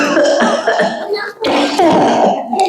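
A storyteller voices an imitation of a child's cough, a few loud, rough throat-clearing bursts close to the microphone with a brief pause between them.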